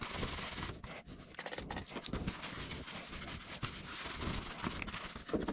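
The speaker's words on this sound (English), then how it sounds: "clean up the area where they will go with some rubbing alcohol" A surface on a motorcycle rear fender is wiped clean with rubbing alcohol and a cloth, giving continuous close scrubbing and rubbing strokes with a rough, scratchy texture and irregular rhythm.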